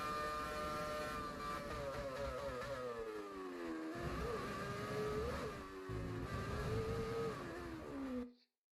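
A Formula 1 car in GTA 5 FiveM drives with a steady, loud engine drone, its revs climbing and dipping through gear changes for about eight seconds before cutting out abruptly.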